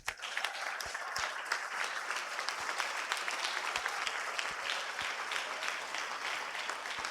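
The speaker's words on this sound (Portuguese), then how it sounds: "Dá salva de palmas." A church congregation at a Portuguese-language service breaks into steady applause, a sustained wash of many hands clapping at a moderate distance with scattered sharper claps.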